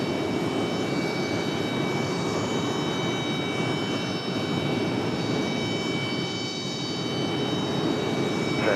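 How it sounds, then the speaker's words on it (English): An Airbus A220-300 jet arriving at Raleigh-Durham from Atlantic City produces a loud, steady engine roar with a sustained whine, continuous for several seconds without talking. "2135 coming in from Atlantic City. 58 minutes of flight time for the A220-300."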